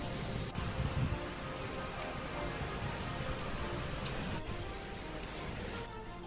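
Steady rain falls in Kotdwar, Uttarakhand, a dense continuous hiss filling the whole stretch at even loudness, with no voices over it.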